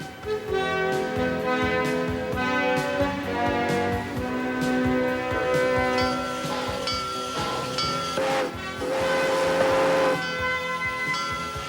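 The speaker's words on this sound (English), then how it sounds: "Around on one of the Transvelt Railway's old-fashioned steam engine trains" A Transvaal Railway steam train at Busch Gardens rumbles and hisses steadily, with clanking, ringing tones and bursts of steam over a continuous mechanical chug.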